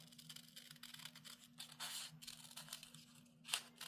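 Paper being cut by hand into a half-egg shape for an Easter card, soft scratchy snips and rustles running throughout, quiet and close, with a sharper crisp snip near the end.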